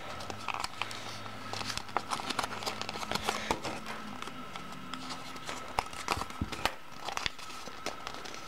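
Origami paper squash-folded while making a wreath: soft, close crinkling and crisp creasing rustles, quiet and irregular, with a few sharper crackles.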